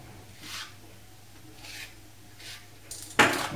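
A regular paint scraper spreads plaster into gaps around a uPVC door frame, making a few soft, close scraping strokes spaced about a second apart, ending in a louder rasp.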